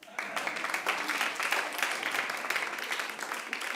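An audience at a stand-up comedy show applauds, a burst of many hands clapping that swells quickly and holds fairly steady for a few seconds, moderately loud with no clear talk.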